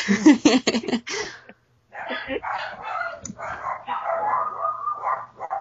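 Dogs bark and yip in a quick close burst, then keep up a softer run of whines and yelps.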